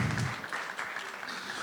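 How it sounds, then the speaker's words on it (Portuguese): Audience applause for the API track coordinators at a business tech event, a short, moderate burst of clapping that fades quickly. "Salva de palmas para os coordenadores da trilha de API."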